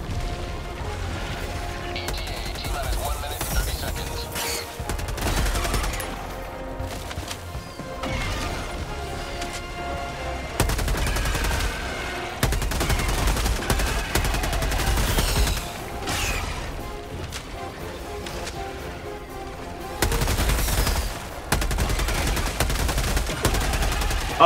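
Repeated bursts of gunfire in the video game Helldivers 2, loud and sustained with short pauses between volleys over a thumping game backdrop.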